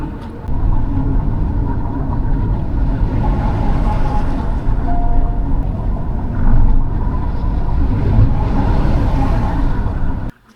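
Car cruising at night on a highway between Rajkot and Indore near Godhra, heard from inside as a loud, steady engine and road rumble that runs unbroken for about ten seconds before cutting off.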